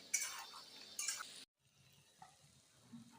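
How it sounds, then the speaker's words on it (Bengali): Chicken roast masala being stirred and sautéed in a pan over a high gas flame: two short bursts of scraping and sizzling, then quieter faint clinks and low rustling, with no voices. "এবার আমি গ্যাসের জালটা বাড়িয়ে আমি কষে নিচ্ছি ভালোভাবে।"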